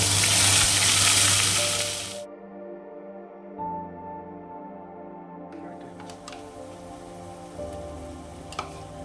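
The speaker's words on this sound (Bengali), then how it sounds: "আমি এখানে পেঁয়াজ একটা টমেটো বাটা দিয়ে দিলাম" Onion and tomato paste hitting a hot pan with peppercorns and a dried chilli, a loud burst of sizzling frying that dies down quickly into a quieter, steady crackle with faint tonal background hum.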